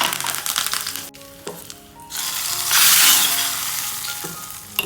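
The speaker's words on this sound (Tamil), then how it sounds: "கொஞ்சமாக கடலெண்ணெய், கடுகு போட்டுக்கலாம்" Mustard seeds frying in a little groundnut oil to temper a coconut chutney, a close, crackling sizzle that dips and then swells into a loud, bright hiss, with no voices.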